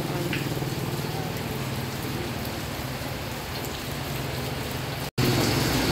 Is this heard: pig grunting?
no